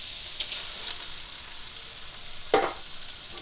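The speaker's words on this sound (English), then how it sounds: "So we're gonna dump our tomatoes in here now," Tomatoes are dumped into a pot of sizzling browned extra-lean ground beef and bacon for chili. A steady frying hiss runs throughout, with a loud, close splashy burst near the end as they land.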